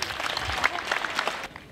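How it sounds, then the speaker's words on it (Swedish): Brief burst of warm audience applause at a school inauguration in Torsås, Sweden, many hands clapping together at close range before cutting off. "han får en fantastisk applåd"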